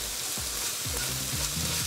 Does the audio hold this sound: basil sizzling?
yes